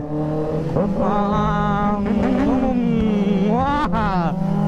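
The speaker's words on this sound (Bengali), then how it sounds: "চলো Z900 আওয়াজ শুনো।" A Kawasaki Z900 motorcycle engine runs steadily nearby, its tone shifting and rising in a brief rev near the end, with people talking loosely over it.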